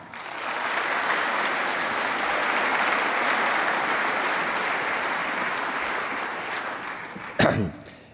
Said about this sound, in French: Merci d'applaudir Philippe Conrad